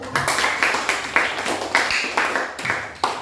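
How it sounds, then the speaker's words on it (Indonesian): A classroom of pupils claps together in a clear rhythmic pattern, roughly a dozen loud, even bursts in quick succession, close and bright. "Tepuk tangan dulu."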